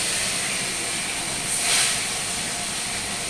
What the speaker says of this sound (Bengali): এই যে এটা এখন কষছি তরকারিটা। ওল আর আলু দিয়ে তরকারি করছি।